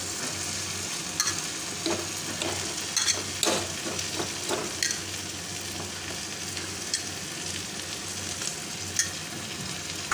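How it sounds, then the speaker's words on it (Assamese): Potatoes frying in a pan, a loud continuous sizzle close up with scraping stirs and small clatters scattered throughout, no voices. "এইখিনি অলপ ভাজি দিম।"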